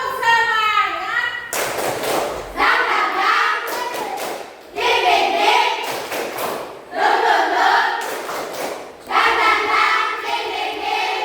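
A class of children shouts a rhythmic spirit chant with claps, the Indonesian tepuk semangat, in loud repeated bursts separated by short pauses, and an adult voice leads the call at the start.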